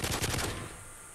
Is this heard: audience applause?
no